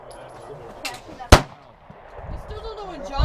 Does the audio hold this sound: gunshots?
yes